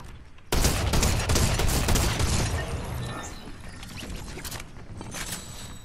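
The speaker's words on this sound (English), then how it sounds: "I hear a lot of shooting." Rapid bursts of gunfire in the video game Fortnite break out suddenly after a quiet start, then continue as dense, loud overlapping volleys of shots that thin slightly toward the end.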